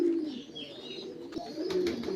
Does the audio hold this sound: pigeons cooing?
yes